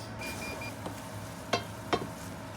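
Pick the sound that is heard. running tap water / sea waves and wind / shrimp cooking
shrimp cooking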